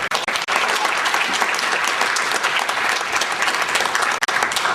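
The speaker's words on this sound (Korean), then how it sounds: "감사의 박수를 부탁드립니다" Loud, dense applause from a conference audience fills the room, sustained and even before cutting off sharply near the end.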